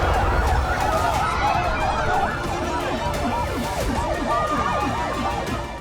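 An ambulance siren in Gaza wails loudly and continuously, its rising and falling pitch sweeping repeatedly over a low rumble of traffic.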